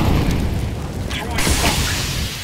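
A grenade explodes in a tactical shooter match, a loud close booming blast with a heavy low rumble that swells and then fades over a couple of seconds.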